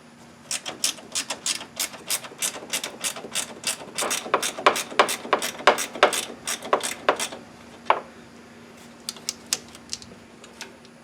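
A ratchet wrench loosens bolts on an Ariens Ikon zero-turn mower, clicking in fast bursts of sharp, close ticks that build, then thin out into a few scattered clicks, with no voices.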